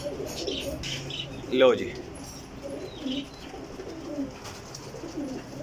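Sialkoti pigeons, one and a half to two years old, give a few soft, low coos among faint rustling, with someone talking over them.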